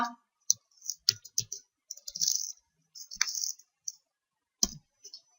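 Mouse clicks on a computer while setting up a circuit simulation in OrCAD software, sharp close taps in irregular bursts with short pauses, some in quick doubles, on a quiet background.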